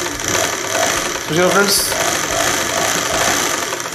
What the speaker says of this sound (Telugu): ప్రెస్ చేసిన తర్వాత మోటార్ నడుస్తుందో చెక్ చేసుకోవాలి మనం